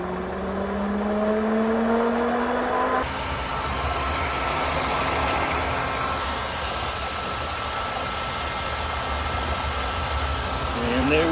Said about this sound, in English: Turn the pump on.